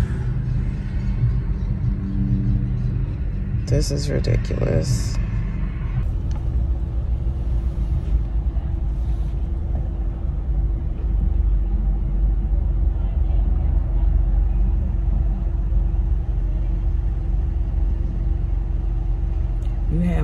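A car idles and creeps along in heavy traffic, its engine a constant low rumble close by, while someone speaks briefly over it near the start.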